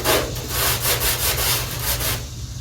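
A scrubber pad rubs rapidly back and forth over the dirty body of a 1974 Dodge D100 pickup, making a loud, close, rhythmic rasping scrub of about eight even strokes under a low steady hum, with no voices.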